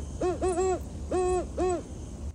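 An owl gives its call, a series of four deep, resonant hoots in two spaced pairs against a quiet outdoor background, with no voices.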